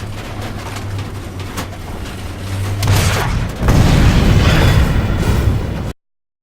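A film bazooka blast: a deep boom and rumbling blast swells up, followed by loud, sustained roaring noise like an explosion, with no voices.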